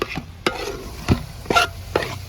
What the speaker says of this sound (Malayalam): മട്ടനും കൂടി ഇട്ട് കൊടുക്കാം നല്ലപോലെ ഒന്ന് ഇളക്കി കൊടുക്കാം